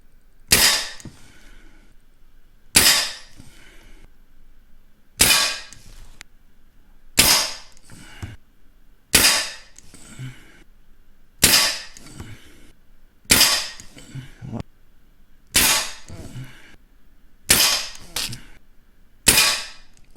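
An Artemis CP2 air pistol fires H&N Finale Match pellets at a 10 m target, sounding as about ten sharp, loud cracks spaced roughly every two seconds, each trailing off in a short ring.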